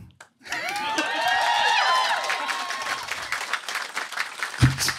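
A live comedy audience bursts into loud applause and cheering, with whoops and whistles rising over dense clapping for a few seconds before easing into scattered claps, followed by a brief low thump near the end.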